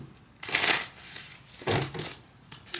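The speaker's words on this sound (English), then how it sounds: "Let me do a quick shuffle because these cards just kind of flew all out of my" Tarot cards being shuffled by hand in three quick riffling bursts, each a crisp papery flutter, close and fairly loud with short quiet gaps between.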